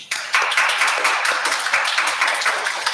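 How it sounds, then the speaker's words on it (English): A school audience claps for students about to perform a mock trial, a smaller group whose individual hand claps are distinct and rhythmic, starting abruptly and holding steady. "Let's encourage them with a round of applause and begin."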